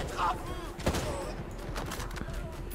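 Gunfire in the video game Ghost Recon Breakpoint: scattered shots with one sharp crack near the middle, set against a steady low background rumble at moderate distance.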